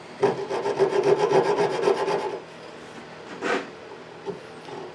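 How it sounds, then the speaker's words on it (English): Coping saw cutting into the corners of a wooden tenon shoulder, a close, rapid rasping run of strokes for about two seconds, then a single short scrape and a faint touch afterward. "I'm just using a coping saw right here, and just cut into each corner a little bit."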